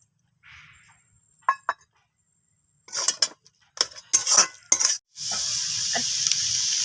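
Tamarind water poured into a hot pan of momo soup with cauliflower and cabbage: clinks of a spoon and utensils, then a loud sustained sizzle that starts suddenly and continues close up.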